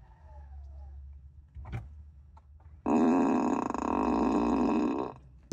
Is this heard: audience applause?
no